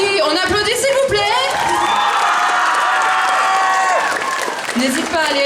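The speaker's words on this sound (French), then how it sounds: "On applaudit, s'il vous plaît." An audience at a cosplay contest applauds and cheers loudly, with whoops and raised voices over steady clapping, while a voice talks over the crowd noise.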